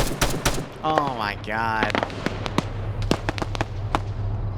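Rapid bursts of gunfire in a horror video game, a fast volley of sharp cracks followed by scattered single shots, loud and close, with a voice exclaiming in surprise over the shooting.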